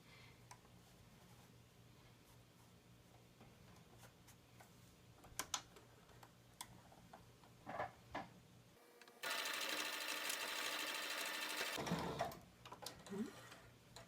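A sewing machine stitches along the ear edge of a fabric mask, a dense whirring run lasting a few seconds after quieter handling taps and clicks.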